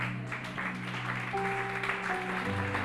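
A church congregation at a worship session claps and cheers in praise, a moderate wash of applause with sustained organ or keyboard tones held underneath.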